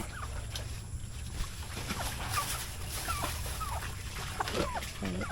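Several chickens cluck and murmur in short, scattered calls against a steady background hum, with an occasional louder squawk standing out.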